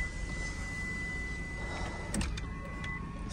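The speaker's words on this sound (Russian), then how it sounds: "Складываются зеркала." The power side mirrors of a 2017 Kia K5 fold with a steady electric motor whine. A few soft clicks and a tone change come as they stop, heard close with no talking.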